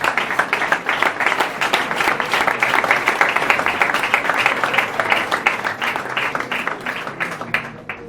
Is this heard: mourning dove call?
no